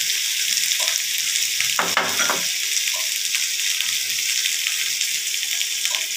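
Onion frying in mustard oil for a potato curry gives a loud, steady sizzle all the way through, with a brief clatter of stirring near the middle and no talking.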